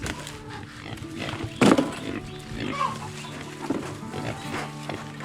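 Pigs oinking and grunting at feeding time as chicken offcuts (heads, feet and guts) are thrown to them on a small farm, with a louder squeal burst partway through over steady background noise.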